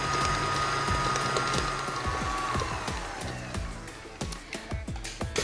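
An electric mixer runs steadily through cupcake batter with eggs for Malteser cupcakes, starting low and building to medium speed: a close, continuous motor whir with scattered clicking and rattling from the beaters.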